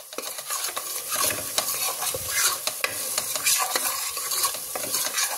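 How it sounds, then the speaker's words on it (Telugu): Garam masala and spices fry in oil for chicken gravy, loudly sizzling and crackling up close as a spoon stirs continuously, with no voices. "ఈ మసాలాలన్నీ ఒకసారి బాగా ఫ్రై చేసుకుందామండి."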